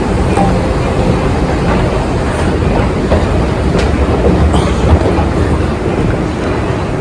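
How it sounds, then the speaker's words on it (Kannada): A metro train rumbles through a metro station in Qatar with a loud, steady roar and faint rail clatter that runs unbroken throughout. "ಸೊ ಗೈಸ್, ಈಗ ಮೆಟ್ರೋ ಸ್ಟೇಷನ್ಗೆ ಬಂದ್ವಿ"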